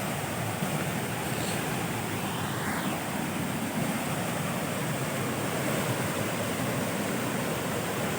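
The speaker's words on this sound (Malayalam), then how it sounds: "വാട്ടർഫോൾസ് നമുക്കിവിടെ നിന്ന് നല്ല മനോഹരമായിട്ട് കാണാനായിട്ട് സാധിക്കും" Aruvikuzhy waterfall pouring over sloping rock, a continuous broadband roar heard from nearby, steady and unbroken with no voices.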